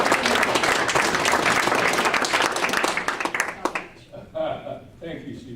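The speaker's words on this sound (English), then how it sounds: "Can we have a round of applause" A meeting audience claps in a full, steady round of applause that tapers off into scattered claps and murmured voices toward the end.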